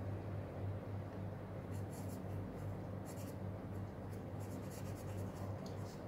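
Pen strokes scratch across paper while a math exam solution is written out, bursts of short, faint scribbling coming and going over a steady low hum, close up with no speech.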